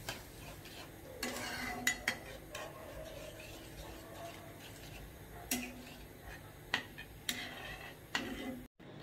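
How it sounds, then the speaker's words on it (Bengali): A spoon stirs beaten yogurt in a bowl in a home kitchen, with scattered scraping and clinking taps against the bowl, some sharp and close, separated by quieter pauses. "এবার এটা ভালো করে নাড়তে হবে।"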